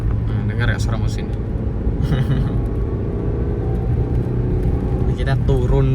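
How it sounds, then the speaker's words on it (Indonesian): A car engine drones steadily while driving a winding, hilly road with sharp bends near the Central Kalimantan–West Kalimantan border, a constant low rumble carrying throughout with faint speech over it. "Nah, dengar ya suara mesin."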